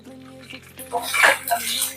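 Diced potatoes and salt scrape and clatter in a cooking pan as they are stirred together for a fasting farali dish. The utensil makes brief metallic knocks that swell in the middle, with faint speech underneath.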